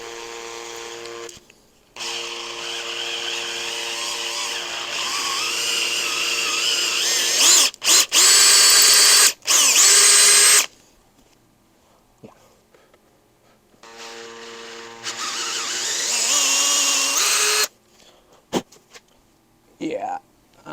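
A power drill with an oversized 5/16 helicoil bit bores out JB Weld in a motorcycle transmission thread, running in two long whining bursts with brief stops and a few short blips between.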